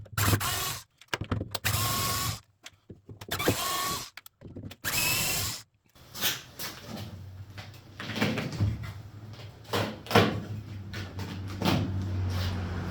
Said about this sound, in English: there's 4 screws in behind here, and this piece just pops right out